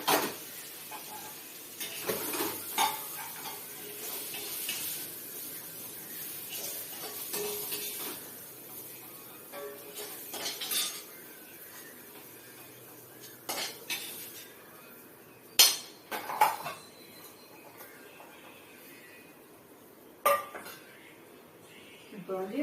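Cabbage chana dal curry being scooped from a pan into a serving dish, metal spoon scraping and clinking against cookware in scattered, irregular taps, fairly faint with quiet gaps between.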